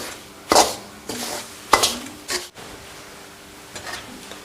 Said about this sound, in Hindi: सूजी डालेंगे और अच्छा सा इसको भूनेंगे